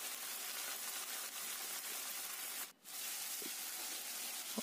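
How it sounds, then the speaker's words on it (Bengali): Pomfret fish frying in hot oil for a spicy jhal gives a steady, close sizzling hiss that runs throughout, broken by one brief dip. "কিছুক্ষণ ভেজে নিয়ে তারপর একটু জল দিয়ে সেটাকে আবার নাড়িয়ে চাড়িয়ে ভেজে নেওয়া হলো।"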